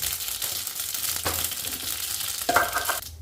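Mustard seeds, about a spoonful, crackle and sizzle in hot oil, a steady bright frying hiss with a utensil scraping the pan, louder in the final second.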